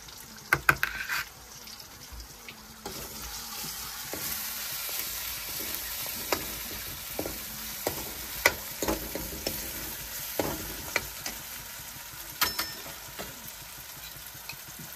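A spoon stirs pumpkin curry in a pan, giving repeated scraping and clinking strokes over a steady low sizzle of frying, close and moderately loud throughout.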